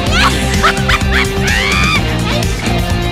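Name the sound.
dog barking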